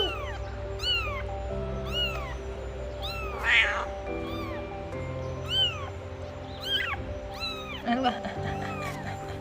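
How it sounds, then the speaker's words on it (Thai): Repeated high, thin meows from a newborn stray kitten, several short mewing cries close by with a soft background hum. "เสียงแมวน้อย"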